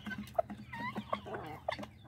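Guinea fowl and chickens call at a farm, faint and some distance off, with scattered clucks and several short sharp cries rising over steady low background noise.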